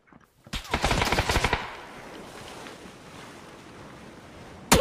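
Loud burst of rapid gunfire from the video game PUBG, a dense volley of shots in the first second or so, followed by a lingering ambient wash and another shot starting right at the end.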